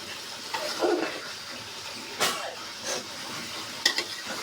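Jackfruit curry with lentils being stirred in a cooking pot, giving soft, intermittent scraping and wet sloshing strokes at close range with a faint sizzle underneath, no voices.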